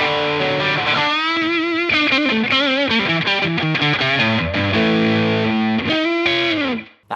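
Heavily distorted electric guitar through an Amazon Basics overdrive pedal turned to maximum, playing sustained, buzzing notes and chords with a gritty, hissy overdriven tone, loud and close, cutting off abruptly at the end.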